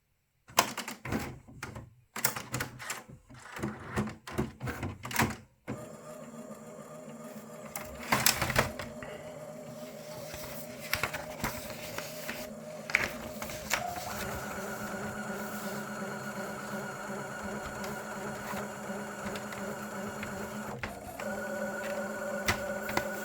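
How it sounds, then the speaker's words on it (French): An HP inkjet printer running its lengthy preparation cycle after defective HP363 cartridges are fitted: fast mechanical clattering and ratcheting bursts at first, then a sustained whirring, humming drive with tonal motor whines and occasional clicks, close and alone. "Donc la préparation de l'imprimante est un peu longue."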